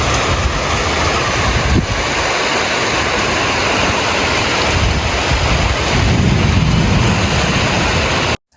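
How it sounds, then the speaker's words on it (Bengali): Storm wind and heavy rain roar in a loud, dense, continuous wash with low gusty rumbles and wind buffeting the microphone, steady throughout before cutting off at the end, with no talking. "গাছের দিকে তাকালে বোঝা যাচ্ছে কি পরিমাণ ঝড় হইতেছে।"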